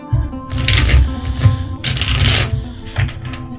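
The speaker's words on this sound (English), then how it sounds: "I'm going to shuffle the deck." A deck of tarot cards being shuffled by hand, close and fairly loud, with repeated riffling bursts and flicks running through the whole stretch.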